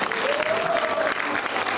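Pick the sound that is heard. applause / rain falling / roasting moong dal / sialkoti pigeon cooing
applause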